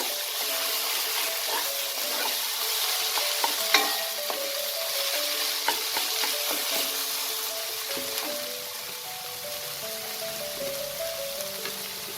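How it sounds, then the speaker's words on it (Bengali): Red amaranth greens being stirred in a pan with half-crushed fried peanuts: a continuous crackling sizzle with scattered scrapes and clicks of the spatula, while faint music plays underneath. "এটাকে ভালো করে মিশিয়ে নেব।"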